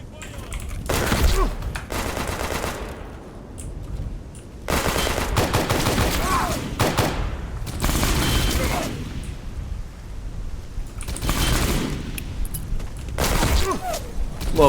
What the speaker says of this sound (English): I got shot at with the machine gun